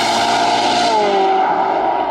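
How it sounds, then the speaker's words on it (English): A Ferrari 458 with a naturally aspirated 4.5 litre V8 screams loudly at high revs, its tone shifting through a smooth, steady sweep before it starts to fade. "it revs so freely, and it sounds like a Ferrari should sound"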